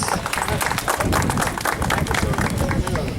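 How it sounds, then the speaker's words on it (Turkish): Audience applause at a school event, presumably an end-of-year student exhibition, with dense, steady clapping from a crowd filling the whole stretch, loud and close, with no clear talk over it. "Onları da kocaman alkışlıyoruz."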